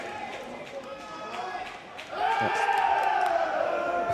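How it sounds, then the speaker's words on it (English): A crowd erupts in cheers for a point at a Paris 2024 sitting volleyball match between Kazakhstan and Brazil, a broad roar swelling from steady arena murmur, with a commentator talking over it. "Kazakhstan cheering, thinking they'd won the point because Brazil threw the ball up"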